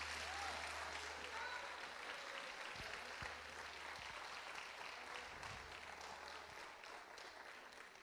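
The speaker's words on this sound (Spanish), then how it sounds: "Fuerte el aplauso al Dios que vive." A church congregation applauds continuously and loudly throughout, a steady wash of many hands clapping in a large worship hall, fading slightly toward the end.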